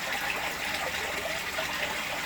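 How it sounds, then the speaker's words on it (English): Water pours and splashes continuously into an aquarium during a water change, a steady rushing gush at moderate volume with no voices. "Just giving this a water change this morning."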